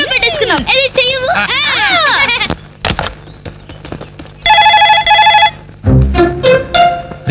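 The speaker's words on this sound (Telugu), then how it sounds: "రింగ్ అవుతుందిరా" A telephone rings with a brief, bright electronic tone in a Telugu comedy film scene, set between voices, music and other noises.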